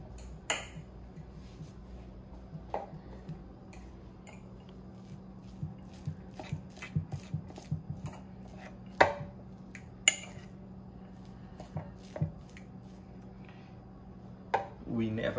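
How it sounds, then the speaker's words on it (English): A spoon scrapes and taps against a bowl while mustard is mixed into a cheese roll filling, giving irregular clinks and soft squishy stirring over about fifteen seconds, with people talking intermittently. "We're gonna mix this up."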